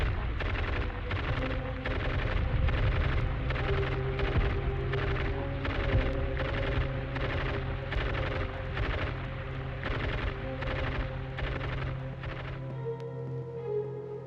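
Rapid, evenly spaced bangs of Fallas festival firecrackers crack like gunshots, a steady loud barrage going on continuously over a low background rumble.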